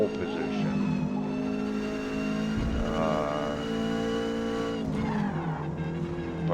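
Ford Cortina at speed on a qualifying lap at Mid Ohio in Forza Motorsport, a loud steady engine drone with pitch sweeping down and up through gear changes, tire squeal mixed in, and a voice talking over it.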